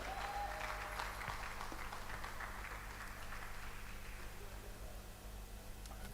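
Steady, dense applause from a conference audience at the WAACS 2026 event, heard faintly as if from a distance, sustained evenly for several seconds with little talk over it.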